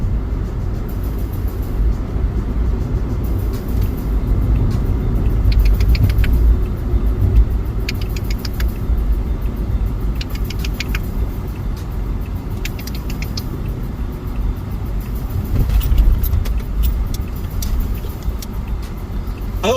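A car drives along the street outside, with a steady low engine and road rumble running throughout and a few faint clicks and taps scattered over it.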